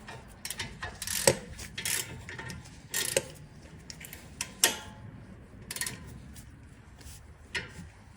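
A hand ratchet snugs the brake caliper bolts on a 2016-2021 Honda Civic during a front pad and rotor job, giving close, sharp clicking bursts in irregular short runs over quiet garage background.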